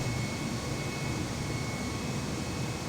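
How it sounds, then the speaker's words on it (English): An Airbus A320 jet in Microsoft Flight Simulator 2020 roars steadily just after takeoff, a loud, even broadband engine and air rush with no voices. "we have successfully taken off from this airport"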